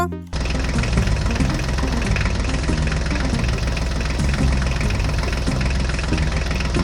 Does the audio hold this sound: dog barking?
no